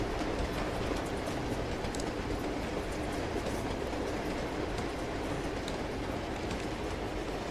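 A train in the video game Uncharted 2 rattles along steadily, with a continuous rumbling clatter of wheels and carriages at an even level throughout.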